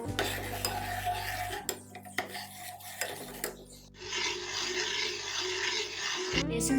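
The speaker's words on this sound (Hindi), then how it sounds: "घी में बेसन को डाल के अच्छी तरह से भूनेंगे।" Gram flour being roasted in hot ghee with cardamom in a pan for egg halwa, with a spoon rasping and scraping steadily against the pan at close range and brief pauses between strokes.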